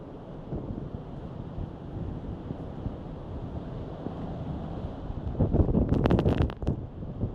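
Hard storm wind roars and buffets the microphone outdoors, a continuous rumbling blast that swells into stronger gusts with crackling rattles near the end.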